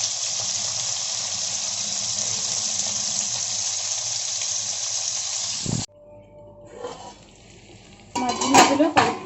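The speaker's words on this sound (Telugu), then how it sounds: "మీడియంలో పెట్టి వేయించుకోవాలి" Bitter gourd and onion fry loudly in a pan on medium heat, a dense hiss that abruptly drops away, followed by light clatter and stirring scrapes.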